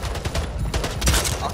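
Shotgun blasts in the video game Splitgate, a dense, loud burst of gunfire and game sound effects filling the short moment, with heavy low-end booms around the middle.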